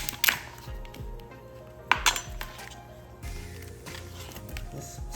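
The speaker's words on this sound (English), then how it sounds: "Just snap those off at the knuckle." Claws snapped off a cooked lobster at the knuckle, giving two sharp close cracking clicks with a brief clatter of shell against kitchenware, then quieter handling.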